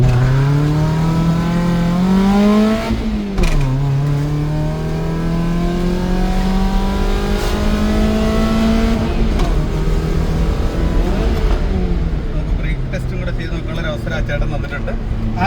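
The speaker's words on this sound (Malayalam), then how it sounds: "ആ നിങ്ങൾ കണ്ടതാണ് നമ്മുടെ ഒരു ആക്സിലറേഷൻ എന്ന് പറയുന്നത്" A modified Maruti Zen Carbon accelerates hard along a highway, its engine rising steadily in pitch through several gear shifts, loud and close, with a voice speaking over it.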